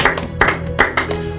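A church congregation claps in steady unison to acclaim the Lord, sharp bright claps falling roughly every 0.4 seconds in a rhythmic beat, close and loud over a faint background hum.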